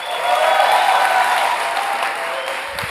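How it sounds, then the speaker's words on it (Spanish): Loud, steady applause from a church or event audience fills the space, a dense wash of clapping held at even strength for nearly three seconds. "vamos a darle un fuerte aplauso"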